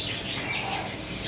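Blue-wing pet birds in a bird shop give off a brief flurry of high, thin chirps and tweets, close and fairly steady, over a soft background hum.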